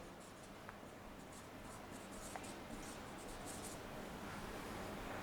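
Marker or chalk writing on a board in a classroom lesson, a faint continuous scratching with a few light taps, soft and close with a steady background hiss.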